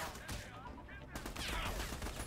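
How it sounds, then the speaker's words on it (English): Bursts of video-game gunfire rattle in a fast, fairly loud volley over a dense, noisy game mix, with a voice talking underneath. "who the hell is shooting me?"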